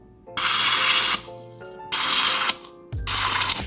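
Lighter refill gas being pushed into a gas torch for an acrylic pour painting session gives three loud hissing bursts, each about a second long, with short pauses between.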